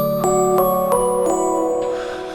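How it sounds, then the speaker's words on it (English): Sustained Ableton Live synth pad triggered from a MIDI clip, a few soft chord changes gliding into one another with a bright shimmering top, alone and steady. "Now the live pad is playing and it sounds like this."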